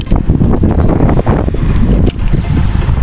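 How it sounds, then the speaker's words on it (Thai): Strong wind buffeting the microphone at a weedy fishing spot, loud rumbling gusts rising and falling continuously for a few seconds with no talk. "แต่ลมก็แรง"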